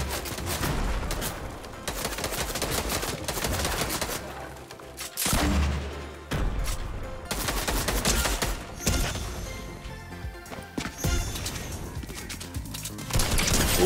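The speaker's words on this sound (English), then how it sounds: "Let's shoot this grenade launcher." A grenade launcher fires repeatedly in Fortnite, with dense bursts of booming shots and explosions that come in rapid clusters with short gaps, loud and continuous over the game's background.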